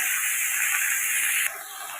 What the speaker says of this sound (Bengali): নাড়িয়ে নিই, মানে একটু ভাজা ভাজা করে মশলাটা দিয়ে তারপরে আবার কষাবো।